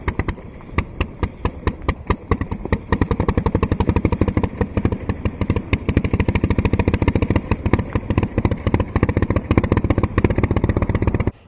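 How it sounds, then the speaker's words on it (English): An Indian Flying Merkel board track racer motorcycle fires and runs after a push start, its engine pounding in rapid, loud, uneven bangs that settle into a dense clattering rhythm close by. "There's no way to start the motorcycle except to push start it."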